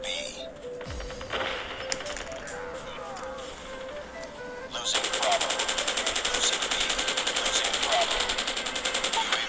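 Rapid automatic gunfire in Call of Duty Mobile, with a dense rattling burst that starts about halfway in and keeps going loud and steady, after earlier game sounds and faint effects.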